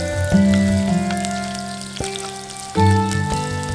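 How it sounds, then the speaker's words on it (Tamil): Sliced onion and garlic hit hot oil in a pan for a village fish kulambu, giving a loud, close, steady sizzle and crackle with a few sharp taps of utensils. "இப்போ நம்ம வெங்காயத்தை சேர் அதோட நான் பூண்டையும் சேர்த்துக்கிறேன்."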